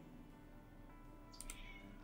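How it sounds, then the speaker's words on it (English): A house cat cries with a short, quiet meow rising near the end over a low steady hum, heard faintly beneath game music in the background. "I'm sorry if you can hear my cat crying as well."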